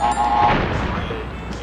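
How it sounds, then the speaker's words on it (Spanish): A box blows up in Crash Bandicoot on PS1, a sharp booming blast followed by a fading rumble, loud and close with game sounds around it. "Explotó esta caja."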